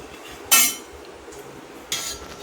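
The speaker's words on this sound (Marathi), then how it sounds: "काजू आणि बदाम थोडेसे भाजून घेते त्यामध्ये टाकायला" Cashews and almonds being roasted in a pan, with two sharp metallic clinks of a utensil against the pan over a faint background, no voices.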